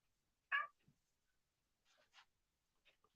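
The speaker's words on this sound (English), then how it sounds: "I hear that cat." Inside a building, a cat gives a short meow followed by a few fainter, scattered mews, with quiet gaps between the calls.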